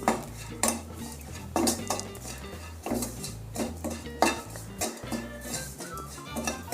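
A spoon scrapes and clinks against a cooking pan while chili and coriander powder are stirred in for Kerala-style sadya sambar, with repeated close metallic knocks in an uneven rhythm.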